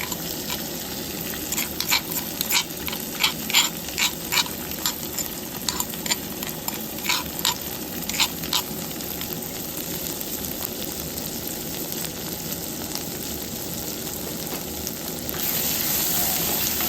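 Spices and maqaen sizzle in hot oil for a northern Thai mushroom dish, a steady frying hiss with repeated scraping stir strokes early on, then the sizzle swells louder near the end.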